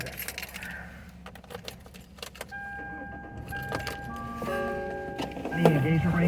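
Car keys jangle in a vehicle during a dash-cam drive, a series of bright metallic clinks and rattles of moderate loudness close by, with a few tonal chimes and low road rumble underneath.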